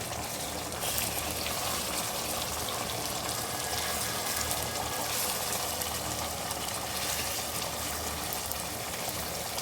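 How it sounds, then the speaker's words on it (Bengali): Water is poured into a cooking pot of boiled fish, making a continuous hissing splash at a moderate level for several seconds. No one talks. "মাছগুলো সিদ্ধ করে পানি দিলাম"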